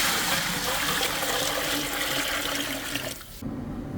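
Water pours steadily from a jug into a cooking pot for mandi rice in a continuous gush for about three seconds, then cuts off abruptly, leaving quiet.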